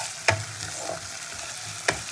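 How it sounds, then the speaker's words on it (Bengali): Ginger paste stirred into tomato and onion frying in a pan, a continuous close sizzle broken by two sharp spatula scrapes against the pan. "আদা বাটাটা খুব ভালো করে মিশিয়ে নেব।"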